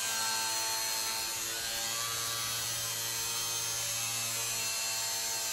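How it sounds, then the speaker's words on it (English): An angle grinder cuts a serving hatch through the roughly 1.5 mm steel body of a Peugeot J9 van, a loud, steady high-pitched whine with a grinding edge that holds for several seconds. "trying to keep the angle grinder at 90 degrees to the van"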